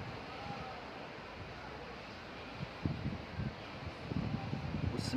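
Gentle sea waves wash in at Saidia beach in Morocco, a faint, soft surf with a few slightly louder swells near the end, calm and distant with light wind.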